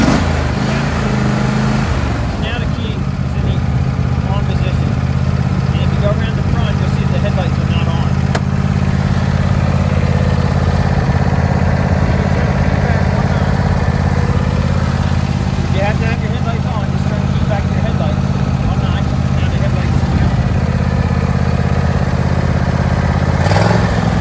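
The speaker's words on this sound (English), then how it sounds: "When you start the tractor up, you're gonna start it up and the key will be in this one position." A John Deere E120 lawn tractor engine turns over and catches, then runs at a steady, loud idle with a constant mechanical drone and clatter that continues without a break.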